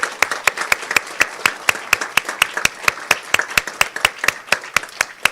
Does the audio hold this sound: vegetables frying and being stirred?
no